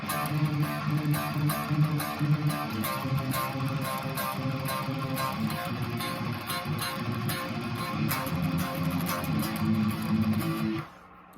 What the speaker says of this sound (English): And then that kicks into the verse riff, which sounds like this.